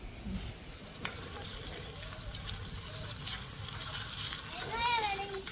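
Mustard seeds, onion and coriander fry in hot oil in a kadai, giving a steady close sizzle and crackle. A voice talks over it.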